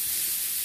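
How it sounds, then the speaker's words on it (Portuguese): A pressure cooker cooking mango jam releases a brief, steady, bright hiss of escaping steam. "Está aqui, meninas, na panela de pressão."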